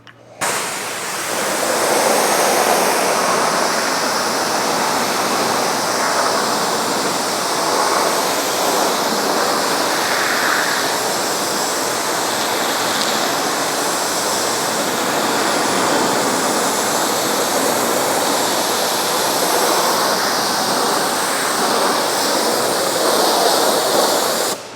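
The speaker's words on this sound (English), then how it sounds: "So we're gonna use a pressure washer, we're just gonna start, rinse all around" A pressure washer rinses down a car during a detailing wash, giving a loud, continuous hissing roar of high-pressure water spray that stays even and close throughout, with no voices.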